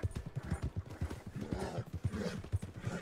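A horse's hooves clip-clopping in Red Dead Redemption 2, a quick, regular trot close by with a faint whinny in the middle.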